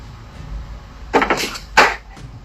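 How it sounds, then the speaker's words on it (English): Sharp knocks on a door from the other side, two clusters of raps, close and fairly loud against a quiet room. "His hand isn't even touching anything when there's a knock from the other side"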